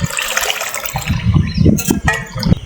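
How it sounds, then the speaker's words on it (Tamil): Ice water pours into a fruit mix of mango, black grapes, pineapple juice, honey and white sugar, giving a close, splashing, gurgling rush for a few seconds with no talking. "இதில் ஐஸ் வாட்டர் சேர்த்துக்கலாம்."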